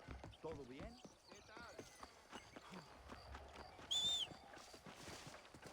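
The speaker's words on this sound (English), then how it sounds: "there's my horse" Horse hooves clip-clop at a steady walking rhythm in Red Dead Redemption, faint and close, accompanied by a short whinny early on and a brief high whistle partway through.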